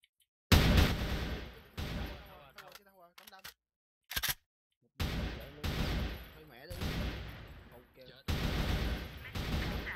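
Rapid bursts of gunfire from a shooter video game, loud repeated volleys separated by short pauses, with players talking over the shots.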